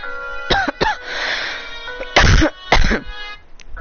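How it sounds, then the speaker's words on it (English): A few harsh coughs and throat-clearing bursts, close and loud, with short pauses between them and a raspy breathy tail. "You hear my coughing"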